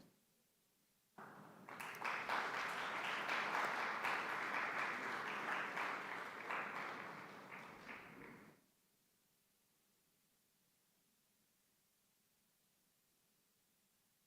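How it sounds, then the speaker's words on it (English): Sustained applause fills a conference hall at an Olympic and Paralympic committee event, steady and even for about seven seconds before cutting off into quiet room tone. "give a round of applause for His Highness Prince Fahad bin Jaloui Al Saud"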